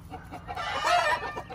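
A hen clucks and squawks loudly after laying an egg, a short excited burst of calls close by.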